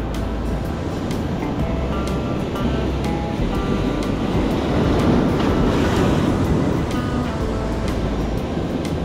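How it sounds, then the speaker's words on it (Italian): Stormy sea surf crashes in a steady, roaring wash, heavy and continuous, with gusting wind buffeting the microphone and no voices over it. "Dobbiamo aspettare le onde giuste."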